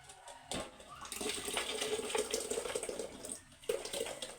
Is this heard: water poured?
yes